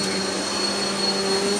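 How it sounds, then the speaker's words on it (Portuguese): A vacuum cleaner runs steadily indoors, a loud, continuous whine and rushing drone with no break and no talk over it. "Passa esse aspirador direito"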